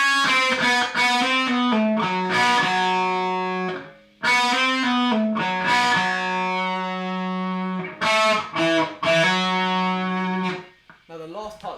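Overdriven electric guitar runs through a longer rock/blues lick, quick picked phrases and held bent notes in bursts with brief gaps, loud, close and gritty.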